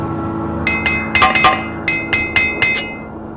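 Hammering from the repair action in the video game Morrowind: about eight bright, ringing metallic clinks in an uneven rhythm over a steady low hum, loud and close.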